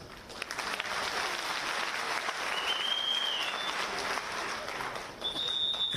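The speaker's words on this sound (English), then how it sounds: "I didn't hear you clapping hands." An audience at a teachers union national congress bursts into sustained, steady hand clapping that fills the conference hall for the whole stretch, with no voices on top.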